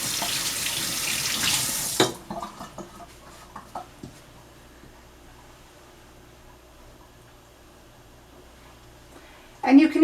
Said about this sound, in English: If your hands get too coated, be sure to wash them.